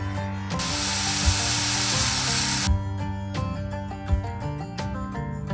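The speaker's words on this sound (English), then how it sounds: "It's so good to be able to use my circular saw out here in the bush." A cordless circular saw cuts wooden decking planks outdoors in the bush, with one loud, continuous whining cut of about two seconds followed by quieter knocks and clinks.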